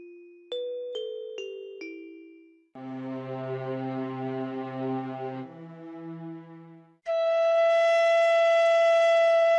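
Sustained flute tones of a bansuri folk melody, clean held notes and short separate phrases with pauses, loud and close with no talking.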